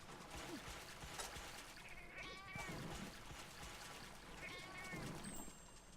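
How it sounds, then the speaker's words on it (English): Cats in Monster Hunter 3 Ultimate give a couple of soft, rising meows, fairly faint beneath a steady game soundscape, while a person talks over them. "Figure I might as well poke these cats because they're here."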